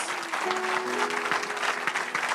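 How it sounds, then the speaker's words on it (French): A church congregation claps together loudly and steadily, with a sustained sung or organ-like tone running underneath the dense clapping. "Clap for Jesus."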